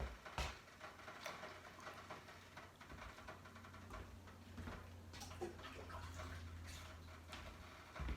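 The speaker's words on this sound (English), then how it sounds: "I'm going to add some more water to bring the level up" Hot water is poured into a sink where pears are soaking, a faint, steady run of water with a low hum underneath and a few soft knocks.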